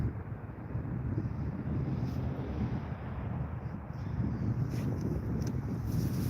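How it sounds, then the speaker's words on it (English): Wind gusting across the microphone on an open frozen lake during ice fishing, a steady low rumbling buffet with no talking. "It's getting windier as we speak."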